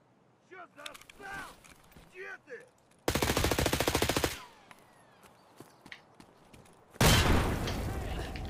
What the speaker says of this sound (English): he threw the grenade at his feet